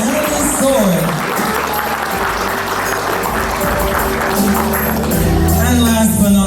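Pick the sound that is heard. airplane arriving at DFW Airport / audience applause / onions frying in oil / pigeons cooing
audience applause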